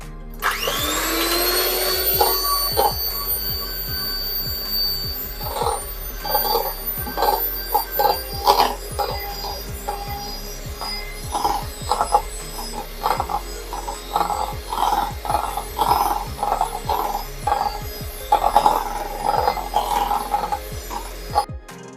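Electric mixer beating a chocolate ice cream mixture made from four ingredients, a steady whirring drone with repeated knocks and clatter against the bowl as the beaters work, running continuously and fairly loud.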